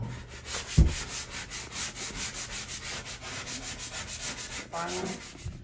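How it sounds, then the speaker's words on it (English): A sponge sander rubs back and forth over drywall mud in a small restroom, a close, rhythmic scratchy swishing in steady repeated strokes, with no talking. "So I'm using a sponge sander so I can kind of feather it out."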